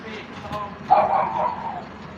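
A pet dog gives one short, mid-pitched yelping bark-whine at close range, set against a quiet room tone and faint voices.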